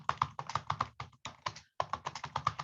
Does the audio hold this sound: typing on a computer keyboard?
yes